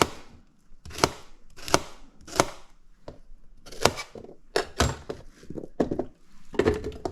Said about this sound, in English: And then we just cut this into smaller pieces.